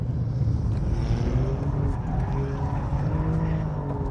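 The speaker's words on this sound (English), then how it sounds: "I'm going to see how easy this car is to slide." A sports car, one of a BMW M3, Mercedes-AMG C63 S or Alfa Romeo Giulia QV, sliding on a track: steady engine roar with a continuous tire squeal throughout, loud and close.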